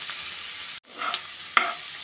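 Onion and tomato frying in a pan for potato bhaji, a steady hiss of sizzling broken by a brief pause and a couple of sharper scraping stirs.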